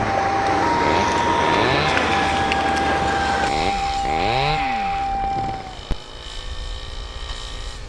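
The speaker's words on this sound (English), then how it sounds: "The chainsaws still roar in the wild Siskiyous." Chainsaw roaring while cutting trees in the Siskiyou forest: a continuous loud engine drone with rising and falling revs, then a sharp crack and a quieter rumbling tail, heard alone.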